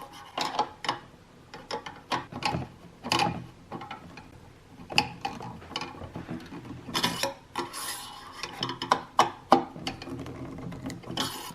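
Metal screws on an AMD Ryzen 5900X CPU heatsink mount being tightened, giving repeated short scraping, ratcheting bursts up close at an irregular rhythm, with no talk.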